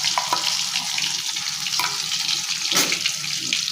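Elephant foot yam stalk leaves sizzle and hiss as they fry in hot mustard oil. The frying is steady and close, with a few louder crackles.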